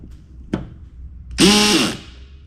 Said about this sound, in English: I think we're okay to use the drill, but I am going to set the torque way down on this